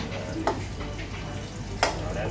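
A steady, crackling sizzle of fish sauce poured onto cabbage in a hot pan, with a couple of brief sharper hisses rising above the continuous frying noise.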